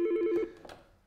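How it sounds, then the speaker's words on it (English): A Yealink VoIP desk phone rings once with a short electronic trill, loud and close, then fades into quiet room tone. "Hit send, and it will ring the other device."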